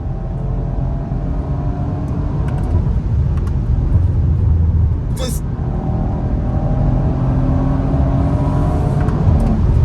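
Audi RS5 Sportback engine pulling hard under acceleration while driving, a steady low rumble filling the whole stretch from inside the cabin, with someone talking over it throughout.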